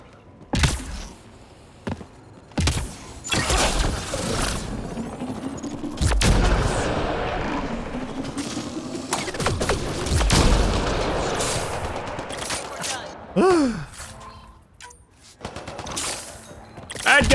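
Repeated gunfire during a Mass Effect Andromeda firefight, with sharp loud shots and short volleys scattered throughout, some overlapping booms and background game sounds.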